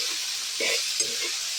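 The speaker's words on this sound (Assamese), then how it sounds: "এখনিয়াত কঁঠালৰ মুচি আৰু আলুখিনি একেলগে দি লওঁ। মই এতিয়া ভাজি লওঁ।" Jackfruit flower and potatoes fry together in a pan with a constant hiss, broken by a couple of brief scraping stirs close by.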